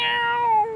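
A human voice imitates a cat's meow in a single drawn-out, fairly loud call with a clear harmonic tone, held steady before it tails off, with no other sound around it.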